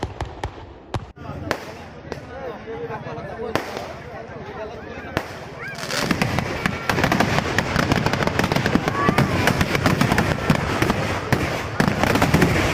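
Firecrackers bursting at a Holi-season festival during a temple deity's wedding celebration, with scattered sharp bangs early on, then dense rapid crackling volleys, loud and close, with voices and crowd noise mixed in.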